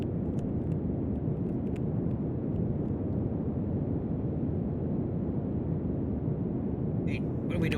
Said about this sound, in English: guidance enabled and in liftoff here in 3, 2, 1.